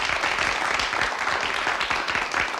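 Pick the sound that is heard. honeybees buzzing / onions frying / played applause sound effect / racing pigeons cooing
played applause sound effect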